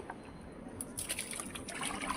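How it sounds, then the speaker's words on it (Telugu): A faint, steady trickle of strained liquid fertiliser being poured onto terrace garden plants, with soft splashes and dribbles. "ఈ వడకెట్టేదంతా మొక్కలకి వేసి"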